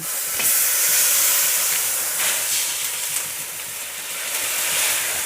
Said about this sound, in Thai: เราตั้งกระทะร้อนแล้วนะคะ เดี๋ยวเราก็จะเอาหัวกะทิลงไปค่ะ